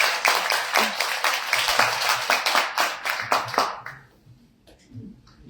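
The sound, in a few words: audience applause at a public policy meeting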